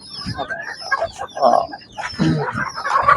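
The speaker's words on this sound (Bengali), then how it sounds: "এগুলো হচ্ছে আপনার ফার্মি সব মুরগি" A crowd of chickens on a poultry farm, including Fayoumi, Sonali and native breeds, clucking and squawking close by in overlapping bursts, with a rooster-like call among them.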